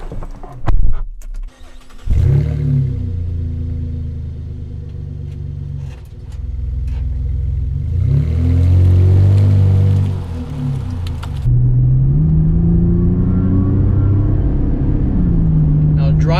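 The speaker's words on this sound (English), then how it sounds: "Driving this 2016 Chevy Colorado Z71." A 2016 Chevy Colorado Z71 pickup cranks and starts with a short burst, then settles into a close, low engine rumble as it pulls away. The pitch rises and falls with gear changes while the truck drives on.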